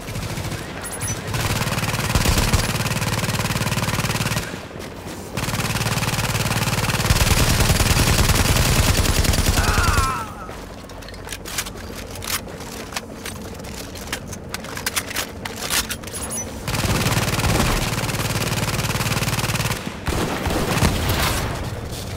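Rapid automatic turret gunfire in Tom Clancy's The Division, loud sustained bursts with brief gaps, followed by sharper scattered shots and more bursts; a voice is faintly present.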